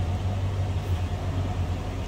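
A 1979 Chevrolet C20 Camper Special Scottsdale pickup idles with a smooth, quiet exhaust, giving a steady low rumble that holds even and unbroken throughout.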